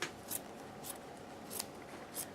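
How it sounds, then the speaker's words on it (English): A fairly large pair of scissors rough-cuts paper around an Easter ornament piece, making faint, regular snipping strokes with soft rubbing between them. "And I get a pair of a little bit bigger scissors to cut it out."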